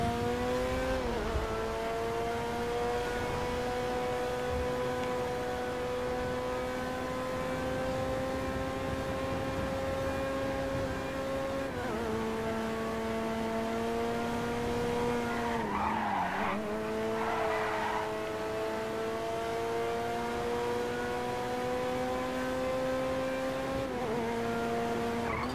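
A car engine in GTA V drones steadily, then shifts pitch as it accelerates and revs, with a brief tire squeal partway through and no talking.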